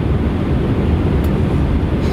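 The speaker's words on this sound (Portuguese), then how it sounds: "Barulho do avião" Inside an airplane cabin, the engines and airflow make a continuous, loud, low roar that stays even throughout with no breaks.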